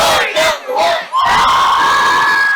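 A group of high school sports fans cheers loudly at a football game, with a burst of rhythmic shouted syllables rising into a sustained, excited yell that carries to the end.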